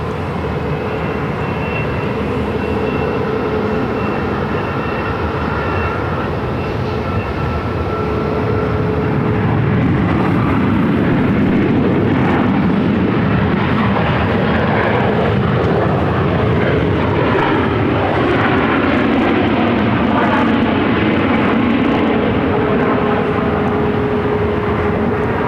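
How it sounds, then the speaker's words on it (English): An Alaska Airlines Boeing 737-900ER, flight 515 from Everett, landing at Phoenix airport, a loud, steady jet rumble that builds slightly over the long approach. "This is Alaska Airlines flight 515 coming in from Everett on a"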